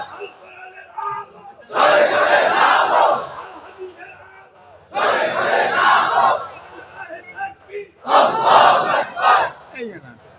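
A large crowd at a religious gathering roars a takbir chant (Allahu Akbar) in three loud, sustained bursts, with a preacher's voice speaking in the quieter gaps between them.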